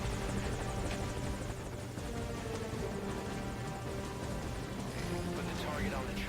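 Helicopter in Metal Gear Solid V: Ground Zeroes, a dense, steady rotor and engine roar filling the scene at constant loudness, with voices talking over it.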